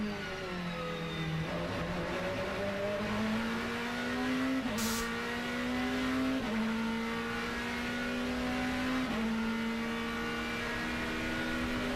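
Onboard a Ferrari GT2 race car at the 2010 Petit Le Mans, the engine howls loud and close, climbing steadily through the revs with several quick upshifts and no talk over it.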